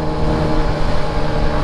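A Vespa scooter rides along at an easy pace, its engine droning steadily with rushing wind noise, close and loud throughout without speech.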